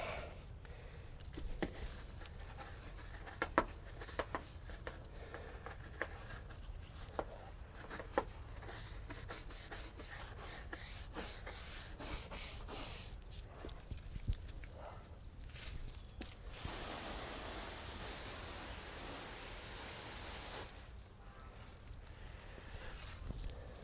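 Loose dirt being scrubbed off a fiberglass boat hull makes soft, continuous rubbing and brushing, close up, with a few sharper knocks. Near the end a brighter, hissier scrub stands out for a few seconds before the sound eases back.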